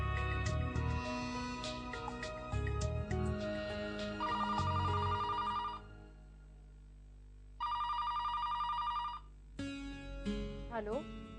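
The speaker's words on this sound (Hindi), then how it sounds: "मैं अभी अमिता को मम्मी पापा को फोन करता हूँ।" A telephone rings in repeated tonal bursts over a musical background, with a brief silent gap between rings.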